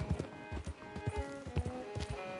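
Rapid clip-clop of a galloping horse in the video game Red Dead Redemption 2, quick rhythmic hoofbeats with a faint tonal hum in the background, no talking.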